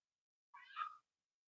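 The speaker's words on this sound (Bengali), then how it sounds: "মানে আওয়াজ পাওয়া যাচ্ছে, মানে যতটা সম্ভব বন বিড়াল ডাকছে" A jungle cat in a zoo enclosure lets out a single short, faint meow-like call, alone against silence.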